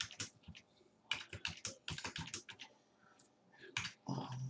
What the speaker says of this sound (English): What is wrong with my typing today?